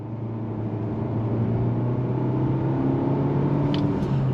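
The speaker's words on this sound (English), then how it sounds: "as we're driving down the road, I just want to go on throttle real briefly" A 2023 Nissan Altima SL sedan accelerating on throttle at about 35 mph: a steady, droning engine hum with rising tonal whine over road rumble, heard from inside the cabin, continuous and moderately loud without talk.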